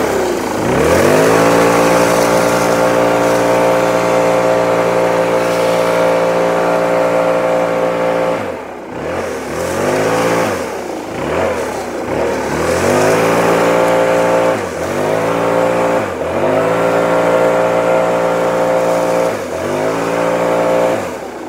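A Stihl BR 700 backpack leaf blower clearing knee-deep leaves in a yard, its engine droning loud and steady and close, then revving down and back up several times in the second half.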